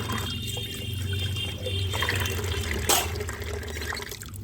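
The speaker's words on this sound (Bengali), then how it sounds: "যে জলগুলো এক্সট্রা পড়ে সেখানে একটা বালতি পেতে দিয়েছি" Extra water from washing ritual dishes splashes and trickles steadily into a bucket set below to catch it, a continuous close pouring sound with a low hum in the background and one brief sharper splash.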